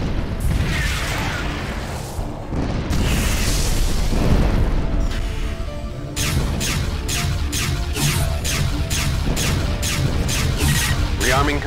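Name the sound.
synaptic bombs exploding in the video game FreeSpace: The Great War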